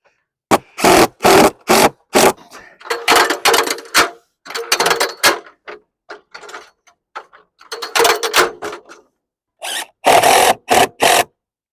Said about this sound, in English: Screw this with some exterior screws into the siding